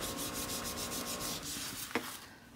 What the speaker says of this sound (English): But you give it a rub.